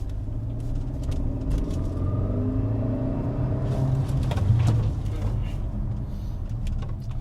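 A Hyundai Creta N Line on the road gives a steady low engine and road rumble from inside the cabin, with people talking over it.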